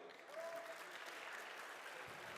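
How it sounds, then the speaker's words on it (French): A steady round of applause from an audience at a gaming tournament final, continuous clapping at a moderate, even level throughout. "On peut l'applaudir."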